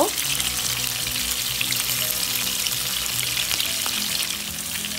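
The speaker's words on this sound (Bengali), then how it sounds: "তেলের মাছগুলো দিয়ে দিলাম তো আমি ভালো করে মাছগুলোকে ফ্রাই করে নেব" Fish frying in hot oil makes a loud, dense, continuous sizzle up close, holding steady for the whole stretch with a faint low hum underneath.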